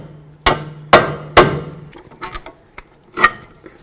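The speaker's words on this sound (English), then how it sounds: "Next we're just going to use our hammer and bonk these bolts out." Three sharp, loud hammer blows ring out one after another, followed by lighter taps and knocks, as strut bolts are driven out of the front driver side loaded strut assembly on a 2007-2014 Ford Edge.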